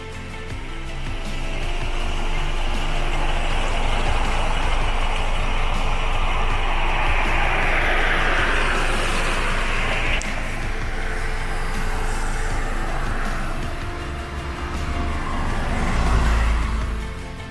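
A vehicle driving on a dangerous mountain road in Limpopo, South Africa, heard from inside as a continuous engine drone and road rumble that rises and dips over time, with no talking.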